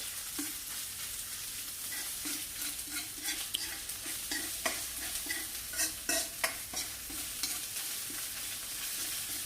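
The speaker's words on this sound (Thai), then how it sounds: "ผัดพริกแกงครับผม" Curry paste stir-fried in a pan, a steady close sizzle broken by repeated rhythmic scraping and tapping of the spatula against the pan, no talking.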